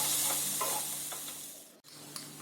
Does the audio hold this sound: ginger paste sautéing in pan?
yes